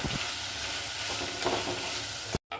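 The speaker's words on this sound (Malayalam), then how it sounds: "അരിഞ്ഞു വെച്ചിരിക്കുന്ന ചെറിയ ഉള്ളിയും തക്കാളിയും പച്ചമുളകും കൂടി ഇട്ട് കൊടുത്ത് നന്നായിട്ടൊന്ന് വഴറ്റിയെടുക്കണം" Chopped shallots, tomato and green chili sizzling and frying in a pan while being stirred, a steady crackling hiss, close and continuous.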